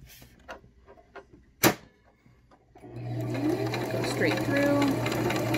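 Sewing machine stitching a small cross-box pattern for a DIY binky clip, starting about three seconds in as a steady continuous whir after sparse taps and a sharp knock, with a voice speaking briefly over the early quiet.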